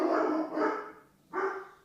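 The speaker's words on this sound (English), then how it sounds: "Sorry for the dogs. We're dog sitting," Dogs bark indoors, two moderately loud, rough barks in quick succession, a short pause, then a third bark, with no talk.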